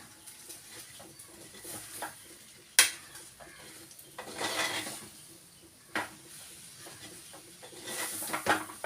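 A spoon scrapes and stirs food in a cooking pot in a quiet kitchen, with sparse soft scrapes and a few sharper metallic clinks spread unevenly over several seconds.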